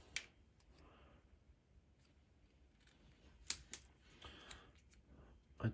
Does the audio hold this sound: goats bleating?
no